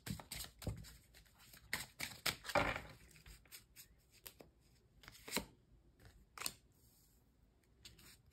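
Tarot cards are shuffled and drawn up close: a run of crisp flicks, slides and snaps comes in uneven bursts, with short pauses between handfuls and no talking.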